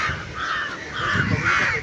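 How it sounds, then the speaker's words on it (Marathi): Crows caw repeatedly and loudly close by at a seaside Shiva temple on the Mumbai coast at Madh, a steady chorus of harsh calls with no one talking. "त्याच्यामुळे ते कावळे भरपूर आहेत हे काय हे कावळे आहेत"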